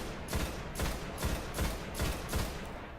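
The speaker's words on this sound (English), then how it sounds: "Love the range on this scout rifle." Scout rifle fire in the Destiny video game: a steady run of about six sharp shots spaced roughly half a second apart, loud and close over a dense background hiss, with no talking.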